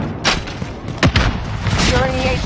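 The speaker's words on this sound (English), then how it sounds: "Enemy precision airstrike inbound." Enemy precision airstrike explosions in a video game: a few sharp booms and thuds in quick succession, loud and close, mixed with game sounds and a voice.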